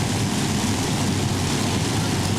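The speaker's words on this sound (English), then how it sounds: "we now have 7 Chevy V8s on this one" Indoor pulling tractor driven by seven Chevy V8 engines at a live European tractor-pulling event in an exhibition hall, giving a loud, dense, unbroken engine roar that fills the whole moment.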